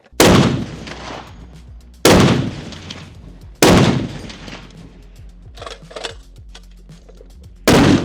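Four loud AK-50 rifle shots ring out at intervals, close and sharp, each with a long decaying echo, and a quieter burst of noise comes between the third and fourth.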